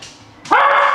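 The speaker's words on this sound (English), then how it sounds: "Always has to bark." A single sharp dog bark rings out loud and close after a quieter moment, its tone held briefly before fading.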